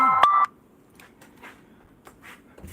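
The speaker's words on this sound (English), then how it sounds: "Why is my phone ringing?" A phone rings with a short, loud electronic tone burst at the very start, then falls quiet to faint room sound while someone cleans plastic dentures.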